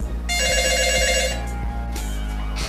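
A telephone rings steadily, close and fairly loud, its bright electronic trill holding through the moment over a low background hum.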